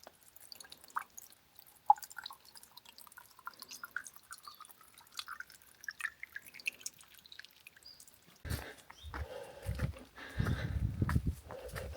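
Water from a mountain source trickles into a bottle on a hiking trail, a thin stream rising steadily in pitch as it fills, followed by louder splashing and handling noises near the end.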